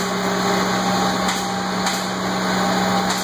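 A CNC router spindle spins at full speed, giving a steady high-pitched whine with a constant hum underneath and no breaks.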